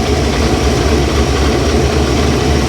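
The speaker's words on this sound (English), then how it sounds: "This blower makes the same noise as mine did, that little whir." Steady low engine idle from a supercharged V8 with a blower, a constant rumbling drone with a faint whir layered on top, loud and close, with no talking.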